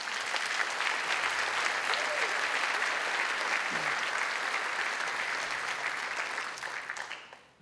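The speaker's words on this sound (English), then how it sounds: "Let's give them another round of applause." Audience applause at a high school and middle school band festival, a dense, even clapping from a full crowd that holds steady for several seconds before trailing off at the end.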